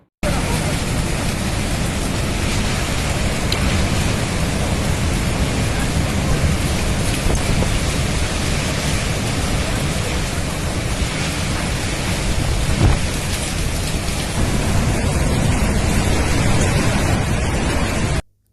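Heavy downpour and storm winds from Cyclone Amphan lash Kolkata as a dense, steady roar of rain that holds loud and unbroken throughout, with a possible faint rumble and some voices mixed in.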